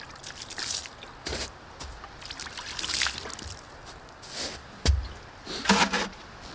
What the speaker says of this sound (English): Then you give it a little rinse.